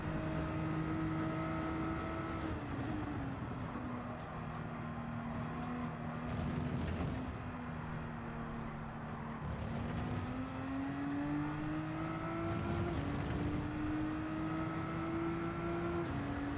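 Race cars in Gran Turismo 7, a lead car's engine whining through gear changes as revs climb and drop, with other cars faintly passing, steady and moderately loud with no talking.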